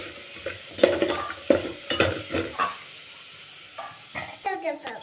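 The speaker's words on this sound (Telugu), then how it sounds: "ఒకసారి కలుపుకొని మూత పెట్టుకుందాం." Coconut curry with onion is stirred in a pan for kobbari pulusu, heard as a series of close scraping, clattering strokes against a faint sizzle, with short pauses between strokes.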